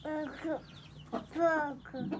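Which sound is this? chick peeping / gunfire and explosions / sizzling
chick peeping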